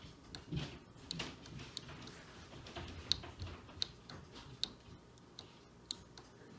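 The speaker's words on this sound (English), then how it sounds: "That clicking noise you heard when I hit the button on the back of the power supply unit" A PC power supply's fail-safe clicks several times, sharp and fairly close, in an Alienware NZXT hybrid build over a quiet background hum.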